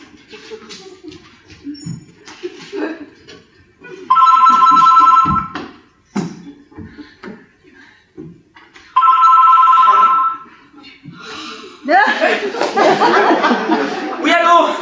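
A telephone rings twice in short bursts during a French stage comedy, with people talking and laughing around and between the rings.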